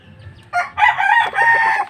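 A rooster crows once, loud and close, a drawn-out cock-a-doodle-doo after a brief quiet moment.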